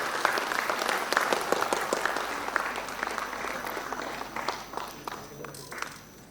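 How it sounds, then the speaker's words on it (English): An audience at a foundation day event applauds teachers and trainers, a dense burst of clapping that gradually thins and fades over several seconds, fairly distant with room echo. "So huge round of applause for all the teachers, trainers, faculties, skill instructors in the Medhavi ecosystem."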